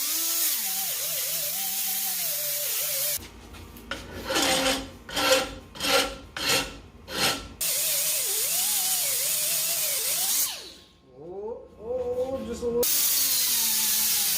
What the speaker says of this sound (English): now I can grind it smooth.